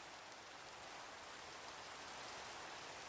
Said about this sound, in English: I'm listening to Minecraft Rain ASMR right now.